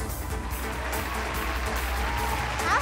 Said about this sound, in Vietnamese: Một tràng pháo tay nữa